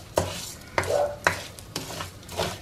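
Rice frying in a pan for casamiento, rice with black beans, is stirred in four or five slow scraping strokes about half a second apart, over a soft continuous sizzle, near and alone without speech.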